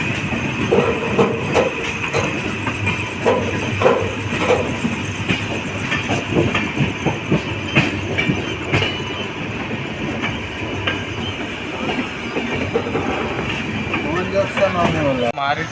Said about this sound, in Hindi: आमने सामने चलते हुए उधरा जयनगर स्पेशल और सारनाथ एक्सप्रेस